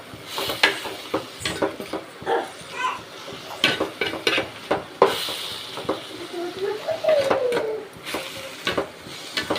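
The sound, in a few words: sauteing ponnanganni greens in a pan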